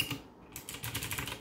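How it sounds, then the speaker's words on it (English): Rapid clicky typing on a Yunzii computer keyboard, a dense run of sharp key clacks close up with no talking, in a home gaming office. "It's called the Yunzii Keyboard."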